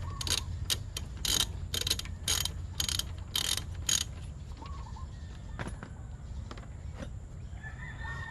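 Wrench loosening a brake nut, a rapid series of about eight close, sharp ratcheting clicks, then a few scattered clicks over a low steady background hum, with a chicken crowing faintly in the distance.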